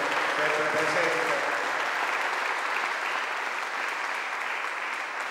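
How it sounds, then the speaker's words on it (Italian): Audience applause at a press conference for the Trofeo Cave di Cusa race in 2017, a steady, dense clapping that fills the room and holds at an even level throughout, with faint voices underneath early on. "Vorrei che facessimo un applauso"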